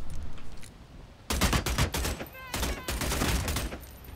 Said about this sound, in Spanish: Se siente bien disparar con esta weá